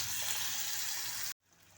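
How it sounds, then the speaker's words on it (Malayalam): Water pours steadily into a coconut chutney curry in a pan, a close, continuous gushing splash that cuts off abruptly, leaving quiet. "കുറച്ച് വെള്ളവും കൂടെ ഒഴിച്ചു കൊടുക്കാം"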